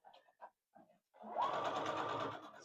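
A sewing machine stitching fabric pot pinchers starts up after a few soft handling noises, then runs steadily with a fast, even whirring hum, fairly quiet and close.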